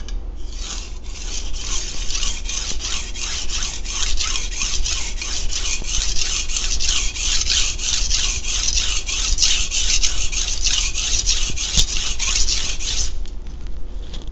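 A knife blade of white steel is pushed back and forth over a coarse 220 grit sharpening stone, making a close, steady rhythmic rasping scrape of repeated strokes for about thirteen seconds, with no talking.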